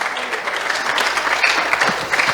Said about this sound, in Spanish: Dele una ofrenda de aplauso al Señor en esta.